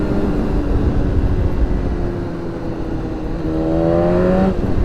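A BMW S1000RR motorcycle roars loudly and steadily under way, its engine note climbing in pitch as it accelerates near the end, with wind noise blended in.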